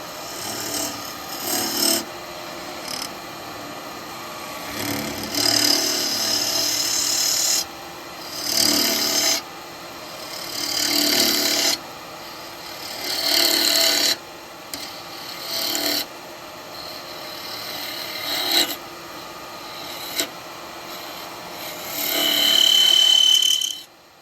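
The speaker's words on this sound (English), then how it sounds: "Stay with this small spindle gouge at the moment, slightly above centre." Small spindle gouge cutting wood on a lathe while turning a snowman lidded box, repeated rasping scrapes in bursts of a few seconds each over a steady motor hum, close and fairly loud.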